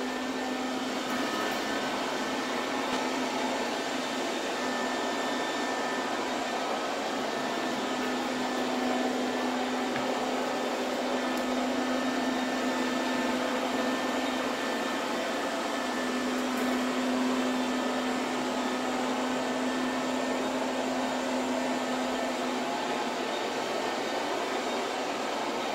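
A Silvercrest SSWR A1 robot vacuum cleaner with mop function runs on maximum suction, giving a loud, steady, close whirring roar with a constant motor hum that holds without a break.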